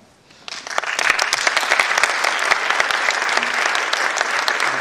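Audience applause at a meeting between President Klaus Iohannis and 300 young people in Bacău, starting after a brief quiet moment and swelling into steady, dense clapping from a large crowd that continues to the end.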